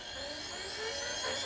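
Steady, fairly quiet mechanical whine with a faint high hiss from a power feed kit running on an AMMCO brake lathe, continuous and even throughout with no talking.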